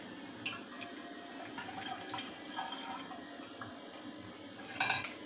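Drumstick leaf soup poured through a kitchen strainer, a steady close trickle and splash of liquid with small drips and a louder splashy burst near the end.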